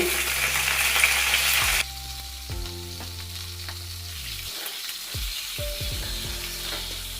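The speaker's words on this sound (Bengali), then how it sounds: "তেল আমার গরম হয়ে গিয়েছে দিয়ে নেব পটলগুলো" Pointed gourd (potol) slices dropped into hot oil and sprinkled with salt, a loud steady sizzle at first that drops to a quieter crackling fry with scattered stirring knocks.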